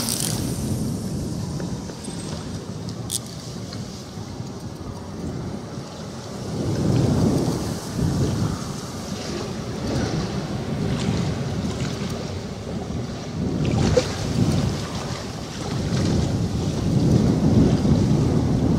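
Strong wind buffets and roars in uneven gusts while fishing outdoors, swelling and fading over a constant rushing background, with no voices present.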